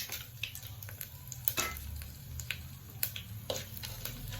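Whole cinnamon, cloves, cardamom and star anise fry quietly in hot oil, a faint steady sizzle dotted with small crackles and a few light clicks of a spoon against the pan.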